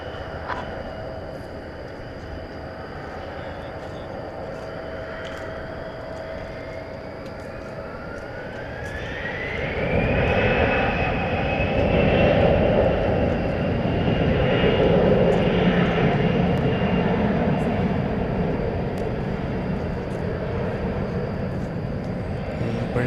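An airliner takes off from runway 18 right at Dallas Fort Worth Airport at night, its jet engines rising from a distant hum to a loud, sustained roar with a climbing whine that holds steady, while air traffic radio chatter runs faintly underneath.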